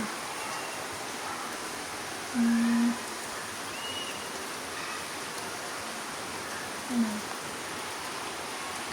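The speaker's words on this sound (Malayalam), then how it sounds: "എന്നാലും ഉണ്ട് മഴ" Steady, fairly quiet broadband hiss of rain falling, continuous throughout, with a couple of brief low tones breaking through.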